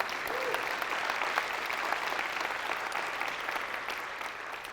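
An audience at a talk about financial independence applauds steadily, a dense, even wash of clapping from many hands that holds its level throughout, fairly close and without talk.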